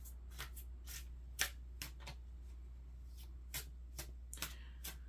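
Tarot cards being shuffled by hand, a run of crisp riffling bursts at an irregular rhythm, close and fairly quiet over a steady low hum with no talking.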